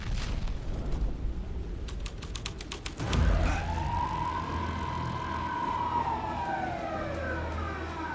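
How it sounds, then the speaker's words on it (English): A police car siren in the video game Alan Wake 2 slowly winds up after a rattling, mechanical stretch with a sharp thud, then holds a long, loud wailing sweep that carries on steadily to the end, with no voices. "Police car?"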